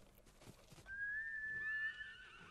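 A horse in Ghost of Tsushima gives one long high whinny after a few soft hoof-like thuds, fairly faint and alone in a quiet game scene.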